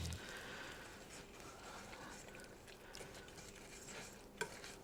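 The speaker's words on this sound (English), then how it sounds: "Now what you'll want to do here is kind of stir it, get it all incorporated into the butter" Sugar being stirred into melted butter in a pot while making caramels, a soft continuous scraping and swishing at close range, steady and moderately quiet throughout with a brief clink near the end.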